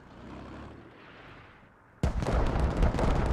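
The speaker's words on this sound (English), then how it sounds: "As you now have a command mortar barrage." Mortar barrage in a military squad video game: a softer rumbling stretch gives way to a sudden loud, dense burst of explosive blasts that keep pounding heavily and close.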